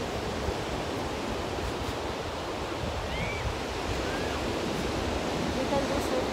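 Surf washes steadily onto Sai Wan Beach in Hong Kong at low tide, an unbroken wash of wave noise mixed with wind, with faint bird calls in the background.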